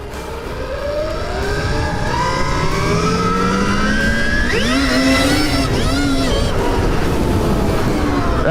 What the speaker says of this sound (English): I'm destroying the tires just by twisting the throttle